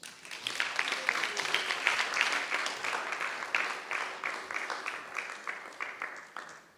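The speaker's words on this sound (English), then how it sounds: "Give them a round of applause." A ceremony audience claps for five graduates being seated on stage at an initiation ceremony, a lively, rhythmic applause with distinct claps that swells and then slowly thins out.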